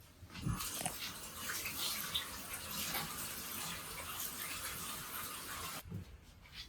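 Water running from a tap outdoors beside a pond, a quiet continuous hiss and splash over several seconds, with a dog audible nearby and a short clatter near the end.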